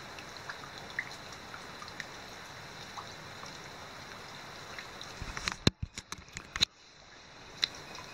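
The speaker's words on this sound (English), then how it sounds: "So it's not raining hard." Light rain patters steadily on a tent during a wet morning on a backcountry trail, a soft continuous hiss, with a few sharper close knocks and rustles near the end.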